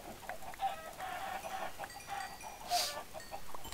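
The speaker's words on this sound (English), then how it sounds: "Kill the chicken." Chickens cluck in a blocky sandbox video game, with several short overlapping clucks over a steady noisy background.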